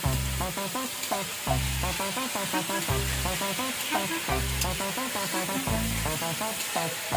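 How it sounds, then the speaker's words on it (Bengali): Potatoes frying outdoors for a picnic give a steady sizzle, with louder rhythmic thuds and clatter repeating about once a second over it, close and fairly loud throughout. "প্রথমেই আলু ভাজছে পিকনিকের"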